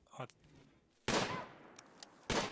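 Gunfire in the video game RimWorld: a few short sharp bursts of shots separated by quiet gaps, fairly close and loud, with no talking.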